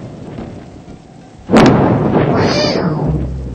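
Thunder from a lightning strike, a sudden loud crack after a low rumbling background, then a long rolling boom that fades slowly, with no talk.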